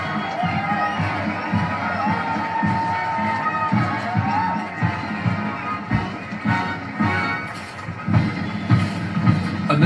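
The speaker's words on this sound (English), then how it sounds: "I'm hearing the crowd applaud the Ukrainian detachment" A large outdoor crowd at a VE Day 80th anniversary parade cheers and claps for the Ukrainian detachment, a continuous distant roar of applause and scattered shouts under a low rumble, with voices mixed in.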